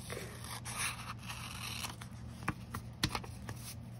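Scissors trim paper for a homemade seed packet, giving a series of close crisp snips and scraping cuts at an uneven pace.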